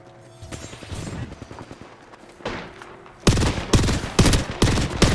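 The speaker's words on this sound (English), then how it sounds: "Firing on our foes." Gunfire in a ranked match of the video game Apex Legends, scattered shots at first, then loud rapid automatic bursts close up in the second half, with a voice speaking over the action.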